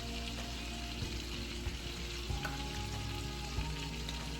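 Fish frying in a pan with minced garlic being added as seasoning, a steady dense sizzle with soft crackles and occasional stirring scrapes, close and continuous with no talking.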